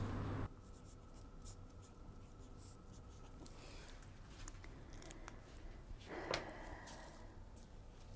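A pen or marker scratches pattern details onto paper for a dress, quiet, soft intermittent strokes and rustles over a hushed room, with a slightly louder scrape near the end.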